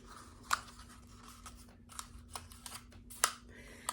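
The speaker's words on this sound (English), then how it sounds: "Just fold it in until it hits the toilet paper tube." Paper being folded inward around a cardboard toilet paper tube for a craft gives soft crinkles, rustles and a few sharp crisp snaps, close and fairly quiet.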